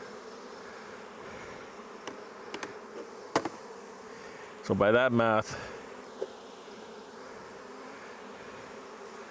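A steady insect drone of many honey bees in an opened hive hums throughout, with a brief louder burst of buzzing near the middle and someone speaking briefly.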